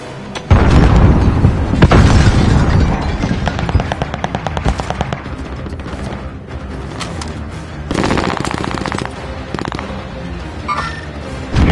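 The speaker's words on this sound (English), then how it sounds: "Frag on the way." Explosions and rapid gunfire from a military shooter video game with a frag grenade thrown, loud booms and bursts of automatic fire filling the whole stretch, with dense layered blasts early and later.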